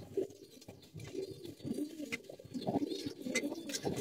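Pigeons coo repeatedly at close range in a loft setting, a steady layered murmur of low throaty calls with some soft rustling, no talk heard.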